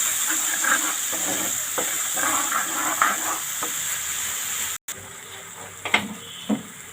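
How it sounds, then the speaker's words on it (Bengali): Whole cumin seeds and bay leaf frying in hot oil in a pan for a fish dish, a loud continuous sizzle and hiss with stirring scrapes, a brief cut, then quieter sizzling with a few clanks. "মশলাটা ভালো করে কষিয়ে নেব।"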